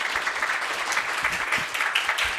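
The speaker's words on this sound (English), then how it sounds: "Please give him another warm round of applause." Audience applause at a seminar event in Seoul, steady dense clapping from a crowd filling the whole moment, fairly close and even in level without a break.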